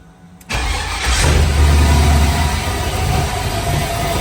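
Chevy LS3 swapped engine cranks and fires after a brief quiet moment, then settles into a loud, rumbling idle that runs steadily to the end, with no talking.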